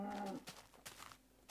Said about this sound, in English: Lots of cows though.